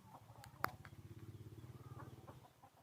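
Chickens cluck near duck and chicken pens in a Lao village, a steady rhythmic run of soft clucking close by with one sharp brief call standing out early and faint bird chirps in the background.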